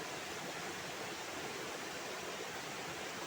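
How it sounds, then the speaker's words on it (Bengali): Water falls steadily down a rocky mountainside, reddish with monsoon soil, making a constant dense roaring rush with no pauses and no voices. "তো পাহাড়ে আরো উপর থেকে পাহাড়ে জল পড়ছে"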